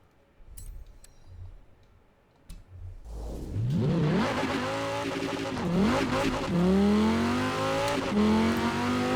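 A seven-gear Cyberpunk 2077 car in Forza Horizon 4 starts with a short rev, then accelerates hard and loud, its engine pitch climbing and dropping with each upshift as it pulls through the gears.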